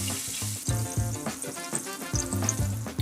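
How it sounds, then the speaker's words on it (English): Pork loin sears in a hot pan with a steady, close sizzle and crackle, broken by a few sharp knocks and scrapes of cookware, and no talk over it. "getting a nice sear on here is going to add a nice"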